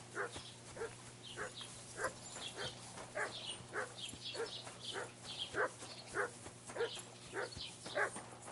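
Dog in the video game Kingdom Come Deliverance 2 giving a steady series of short barks and yips, roughly one each second, moderately close over a low constant hum of game ambience.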